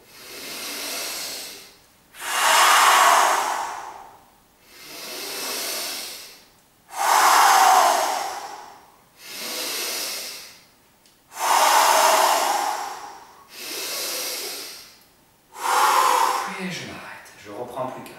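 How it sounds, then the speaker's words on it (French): Forceful breathing exercise: seven long, loud, rushing breaths alternate with brief pauses, each hissing inhale or exhale swelling and fading in a slow, even rhythm, close to the listener. "Je vais forcer en inspirant et en expirant de manière douce"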